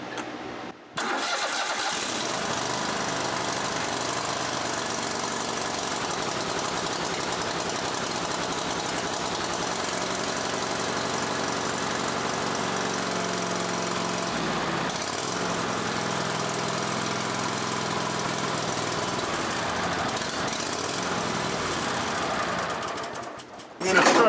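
A John Deere L130 lawn tractor engine on full choke cranks and catches, then runs steadily and loudly close by for about twenty seconds, with a brief dip midway before it cuts out near the end.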